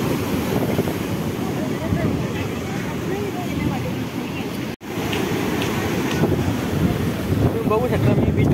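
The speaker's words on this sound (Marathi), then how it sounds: "मी बीचवर आलो आणि इथं पाऊस पण सुरू झालेला आहे बघा" Ocean waves wash in at a Goa beach during rain, a continuous rumbling surf heavily buffeted by wind noise on the microphone, with a person talking over it.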